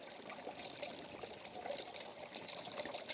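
Running water flowing from a pipe in the mountains, a faint, steady trickling and pouring sound with a soft continuous wash and no talking.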